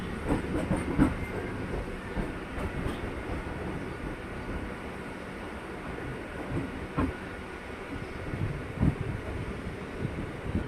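A passenger train runs from Yeshwantpur to Chikkaballapur with a steady rolling rumble and rattling wheel clatter from the carriages, plus occasional sharper knocks and some wind buffeting throughout.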